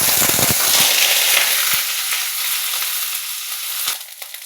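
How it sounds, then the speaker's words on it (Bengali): Steamed, drained cauliflower frying in hot oil in a wok gives a steady, close sizzle with scattered crackles and pops, easing slightly toward the end. "সেটা এবার তেলের মধ্যে দিয়ে ভাজবো।"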